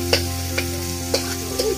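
Basa fish frying in a pan, with a steady low sizzle under four sharp, evenly spaced clinks of a spatula tapping the metal pan, heard up close.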